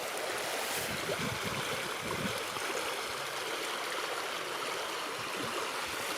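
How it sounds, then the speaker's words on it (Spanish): Fast river current in a Dominican Republic jungle, rushing over shallow rapids in a continuous broadband wash of water. It sounds fairly close and steady, with no voices. "Lleva una buena corriente."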